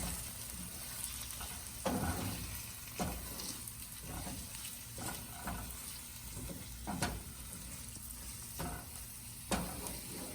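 Egg and rice being stir-fried in a pan for egg fried rice: a steady sizzle runs throughout, broken by repeated scraping stirs of a spatula every second or two, close and alone without voices.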